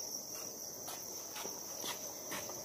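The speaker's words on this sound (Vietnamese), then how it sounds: "bà con thấy con dế to đấy, dế Thanh Bình siêu to khổng lồ luôn đó" Crickets at the Dế Thanh Bình farm in Thái Bình give a faint, steady high-pitched trill with a few soft rustling clicks.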